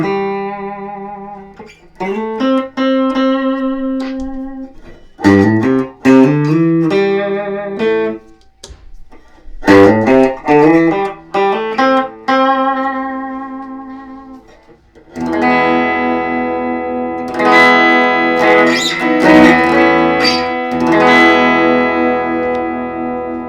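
Single clean notes picked on a D'Angelico Excel Mini DC electric guitar through the neck pickup, played as short melodic runs with pauses, then a busier, brighter passage with ringing sustain; no voice.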